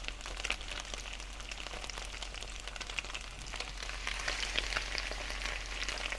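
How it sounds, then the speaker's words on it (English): Steady crackling sizzle of seafood frying in a skillet, continuous and fairly close, with sharp pops scattered throughout and no talking. "Can hear the sizzle in our skillet."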